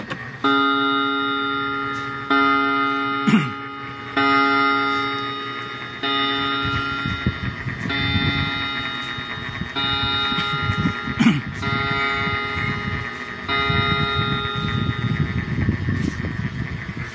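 A Japanese quartz alarm clock plays its chime during testing, a repeating electronic melody of clear tones in short phrases, with faint handling clicks and rustles underneath.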